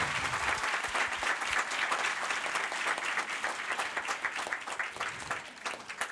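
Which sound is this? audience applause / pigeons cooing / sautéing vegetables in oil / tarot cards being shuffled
audience applause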